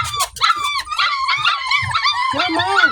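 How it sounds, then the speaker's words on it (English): Four-week-old puppies whimper, yelp and bark in a near, continuous chorus of high, wavering cries, with someone talking to them at the same time. "Come on, puppies, let's go."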